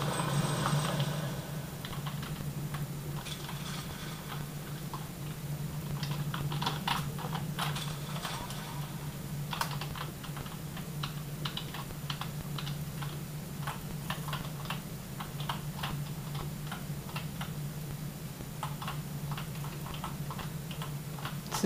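Computer keyboard keys clacking in quick irregular bursts during play of Unreal Gold, a steady patter of near, crisp taps over a constant low hum.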